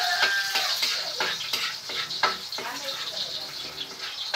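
Garlic sautéing in hot oil in a pan, a busy close crackle and sizzle with repeated stirring scrapes against the pan, carrying on under a speaking voice.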